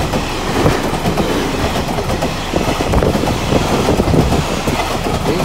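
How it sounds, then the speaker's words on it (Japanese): A train rumbles past with steady clickety-clack of wheels on rails, loud and continuous throughout, with no voices. "電車ですね。"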